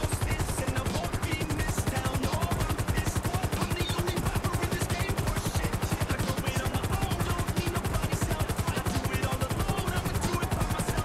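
Police helicopter in the GTA V video game, its rotor chopping in a fast, steady rhythm that stays loud and unbroken throughout, with no talk over it.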